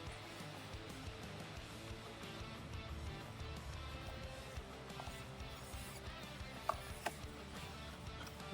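Stock motor and gears of an SCX24 RC crawler in a Class 0 build, a steady faint mechanical whir and grind with occasional small clicks, running continuously at low level.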